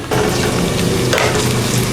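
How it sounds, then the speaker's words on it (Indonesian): Galangal sautéing in hot oil in a pan, a steady close sizzle and crackle with no voices. "Lengkuasnya kita tumis dulu sampai dia wangi"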